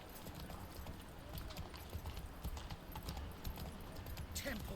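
Hooves of Roach, a horse in The Witcher 3: Wild Hunt, clip-clop at a steady walking rhythm, close and moderately loud, with a voice talking briefly over the steps.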